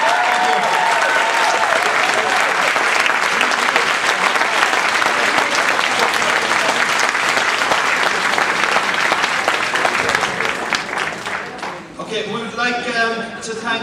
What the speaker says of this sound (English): Give them all one giant round of applause again.